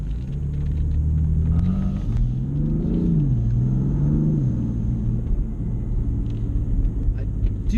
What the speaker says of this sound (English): this engine does not sound bad